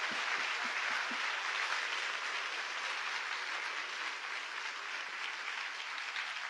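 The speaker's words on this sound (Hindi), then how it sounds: "क्या हम यीशु के लिए जोरदार ताली बजा सकते?" Loud, sustained applause fills a church night-session meeting in Nagpur as a crowd claps for Jesus, a dense steady roar of hands with a few sharper claps at the start, running unbroken throughout.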